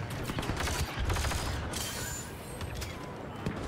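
Turret gunfire in an Xbox One video game, a dense, continuous rattle of rapid mechanical shots with steady loudness throughout, with no talking over it.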